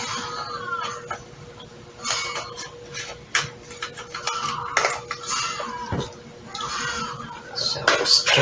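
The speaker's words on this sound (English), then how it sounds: "So stir this together for a moment." Spoon scraping and clinking against a slow cooker crock while beef stroganoff is stirred, a run of irregular close knocks and clatters, with a person talking in between.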